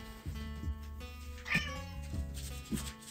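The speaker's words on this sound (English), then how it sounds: "That's my cat in the background." A house cat meows repeatedly in the background, several drawn-out, wavering cries at a moderate distance, alone without talk.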